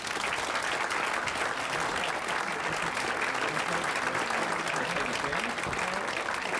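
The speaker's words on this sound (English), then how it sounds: "How about a round of applause?" An audience at a sports hall of fame induction ceremony applauds with dense, sustained clapping, steady and even throughout with no break.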